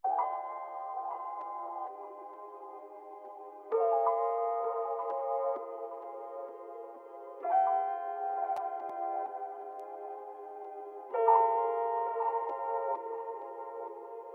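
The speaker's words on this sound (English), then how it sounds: "I routed the main piano to that track, as well as pitching it up a full octave" Piano sample shifted up an octave and treated with delay, EQ and stereo spreading, playing sustained high chords that change about every four seconds, with a smeared, echoing tail and no voices.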